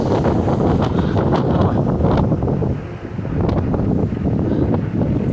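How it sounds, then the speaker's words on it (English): Strong wind buffets the microphone at an ocean pier, a loud continuous roar with gusty swells that briefly dips before surging again, with no voices heard. "It's so windy, you guys."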